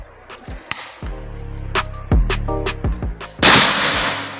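A Predator V2 airsoft gun fires during an accuracy test, giving a handful of sharp, close pops spaced irregularly over a few seconds, with mechanical clatter and a burst of hiss at the end.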